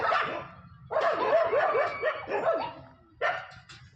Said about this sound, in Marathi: बाहेर कुत्र्यांची मारामारी डुकरांसोबत चालू आहे